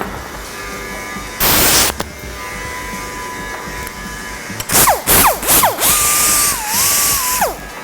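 A small air-powered rotary tool with a 2-inch gray pad polishes aluminum, giving a brief burst, then several short whining spurts that rise and fall in pitch as the trigger is squeezed, over a faint background hum.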